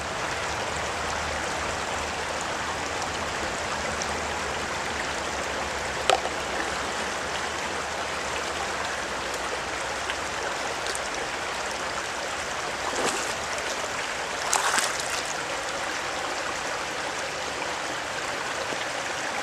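Gold panning in a California stream, with steady flowing water washing and trickling throughout, close and continuous, plus a few brief splashes and sloshes as the pan is worked.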